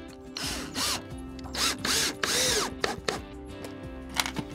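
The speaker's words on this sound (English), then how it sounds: "I'm gonna use some screws and fasten it to the super deck." Power drill driving screws into a hatch cover on a super deck, several short whirring, ratcheting bursts of rising and falling motor pitch with brief pauses between, close by.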